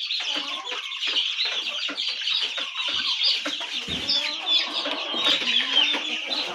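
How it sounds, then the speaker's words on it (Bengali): Two-month-old Aseel chickens at a poultry sale chirp and cluck continuously, several birds at close range making overlapping high peeps and calls with no talking. "2 মাস বয়সের প্রায় 16 পিসের মতো মুরগির বাচ্চা আছে"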